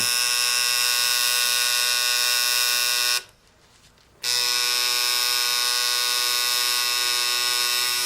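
A tattoo machine buzzes steadily and loudly while shading skin. The close, continuous mechanical whine stops for about a second midway and then resumes at the same level.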